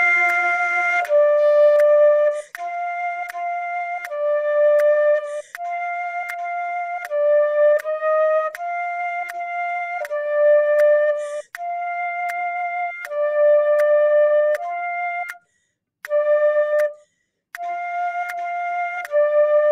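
A flute plays the simple children's melody "Rain Rain", a steady line of clear, sustained notes separated by short breath gaps, loud and close with no talking over it.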